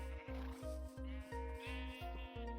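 Sheep bleat repeatedly in a pen in the Minecraft video game, a steady run of evenly spaced, close, nasal bleats, loud and clear with no one speaking over them.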